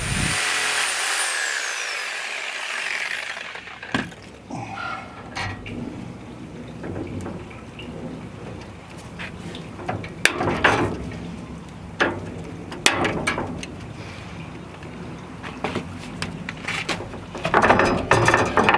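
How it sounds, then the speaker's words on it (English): Reciprocating saw cutting down 12-foot greenhouse shelving racks, with bursts of buzzing cutting and clattering handling noises at close range, intermittent rather than continuous, no talking. "So I'm going to have to take a sawzall to these"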